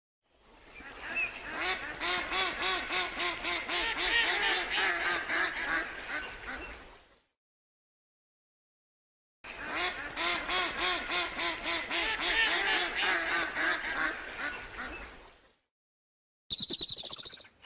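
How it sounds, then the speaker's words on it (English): A mallard duck quacks in rapid, loud, steady runs, with two long bouts separated by a short silence. "Mallard duck."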